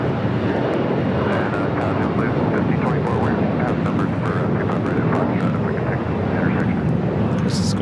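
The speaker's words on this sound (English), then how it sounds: "This is going to be taking off on 25 on the left." An airliner takes off from runway 25 Left at LAX, a loud, steady, broadband jet roar that continues without a break. Faint chatter drifts over the engine noise.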